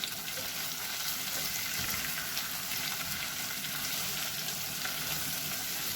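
Chicken frying with curry leaves and a splash of coconut oil gives a steady, close sizzle with faint stirring scrapes, broadband and even throughout with no talking.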